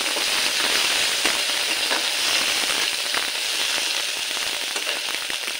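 Three small halved tomatoes fry in oil for a Piali fish curry, giving a steady, close hiss and crackle with no talking.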